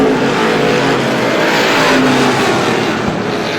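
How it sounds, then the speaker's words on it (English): Race cars roaring around Star Speedway during a Woody's Fast 40 event, a loud continuous engine drone with the field running close together and no clear gaps. "Up front, the 66S of Mike Scott still right on the rear bumper of your leader, Chris Kingsley."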